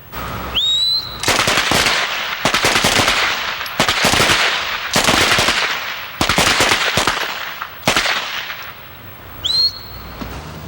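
An Uzi submachine gun fires in repeated bursts of rapid shots at a range session of police training, loud and close. Each burst lasts about a second and is followed by short gaps, and a faint whistle sounds at the start and end.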